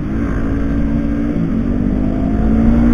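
A loud engine revs steadily against the rev limiter, its harmonic tone holding near a fixed pitch with slight bouncing, continuous and close for the whole stretch with no voices.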